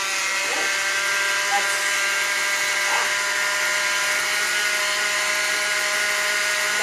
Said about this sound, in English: a good use for a hand mixer is to beat egg whites for meringues or icing